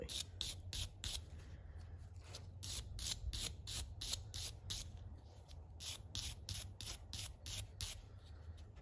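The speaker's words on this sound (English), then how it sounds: "I'm just gonna wire brush the top" A wire brush scrubs the top of a 1975 Partner P100 chainsaw in rapid, evenly spaced raspy strokes, close and fairly quiet, with no talking.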